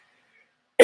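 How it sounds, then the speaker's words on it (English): A person gives a single short, loud cough, sudden and close after near silence, while ill with a lingering cough after a cold. "Now I'm just battling a cough"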